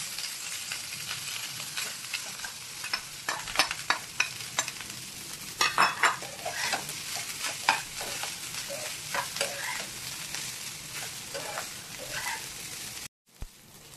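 Cooked rice with cumin and chilli is stirred and fried in a pan for jeera rice, with a continuous sizzle and repeated spatula scrapes and taps that cluster in the middle before a brief cut near the end.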